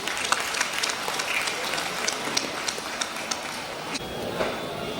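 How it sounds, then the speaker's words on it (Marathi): An audience at a Diwali morning music concert applauds the singers, with dense, steady clapping from a crowd that lasts the whole few seconds. "एकदा खास त्यांच्यासाठी टाळ्या झाल्या पाहिजे"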